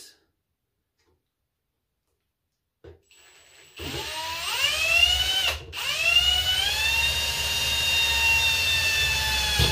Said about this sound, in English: I'm going to put a hole through there.